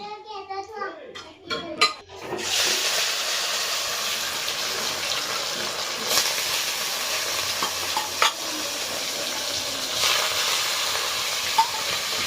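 Boiled potatoes with turmeric and tomato frying in a pan, a continuous bright sizzle with stirring and scraping, close and steady after a brief voice at the start.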